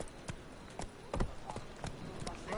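Roach, a horse in The Witcher 3: Wild Hunt, gallops with a quick, uneven run of hoofbeats thudding over a steady background, with a faint voice behind it.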